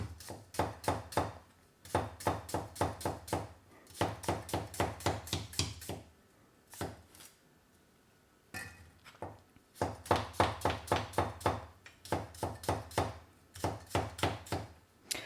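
Rapid bursts of knife chopping through snake cucumber on a board, each run of crisp, evenly spaced strikes broken by short pauses, close and fairly loud with no talking.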